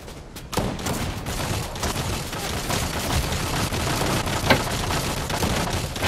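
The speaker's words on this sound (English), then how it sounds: "they just keep shooting me like morons" Video game gunfire, heard as dense, loud, continuous bursts of rapid shots and booms that run almost without a break after a short quieter opening.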